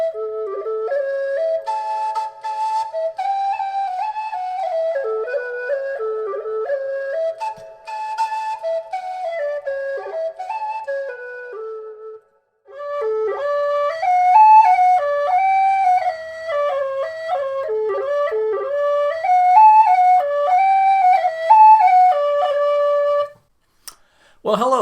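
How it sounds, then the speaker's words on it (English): A Carbony Highland Whistle, a carbon-fibre whistle with highland bagpipe fingering, plays a clear solo melody of quick ornamented notes in two phrases separated by a short pause, close and alone with no talking. "This is the Carbony Highland Whistle"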